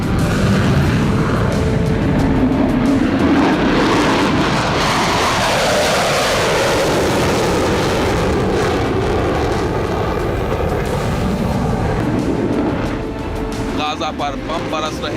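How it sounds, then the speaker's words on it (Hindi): Israeli fighter jets roar overhead in a war over Gaza, a loud, continuous broad roar that swells and slowly shifts in pitch, with brief thuds and crackle near the end. "अब भी इजराइल के लड़ाकू विमान गरज रहे हैं।"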